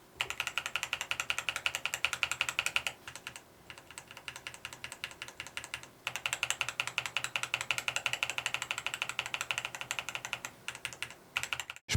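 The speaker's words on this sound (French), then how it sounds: "Ce sont des switches tactiles plutôt sympas et pour vous faire écouter leur bruit" Rapid, steady typing on a mechanical keyboard with tactile switches, crisp clicks in bursts separated by brief pauses, close up with no voices.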